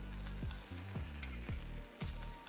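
Green asparagus sears in a pan with a steady broadband sizzle, broken by a few sharp clatters and stirring knocks from the pan, close and fairly loud with no voices.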